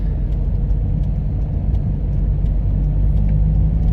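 Steady motorway traffic rumble on the M2, with heavy trucks and a tanker overtaking a 22-wheeler trailer, heard as a continuous close engine and tyre drone with no talk.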